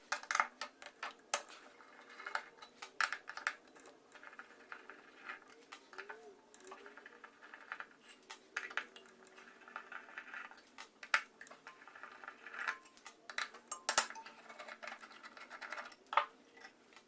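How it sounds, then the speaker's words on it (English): A Torx bit takes six screws out of a Porter-Cable planer blade, making faint, close, irregular metallic clicks, ticks and small scrapes with quiet gaps between them. "you've got a series of 6 screws here that need to be taken out"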